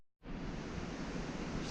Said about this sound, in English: big giant waterfall over there